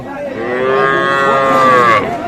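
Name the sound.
young bull calf mooing at a cattle market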